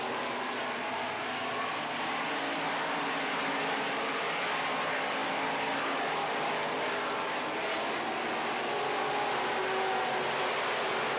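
Midwest Modified race cars racing around a track at an AMSOIL Race of Champions feature, a dense, continuous engine roar that stays loud and steady throughout.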